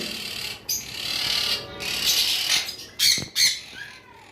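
Opaline lovebirds squawk in loud, harsh bursts close by, with a few sharper shrieks near the end over constant background chatter.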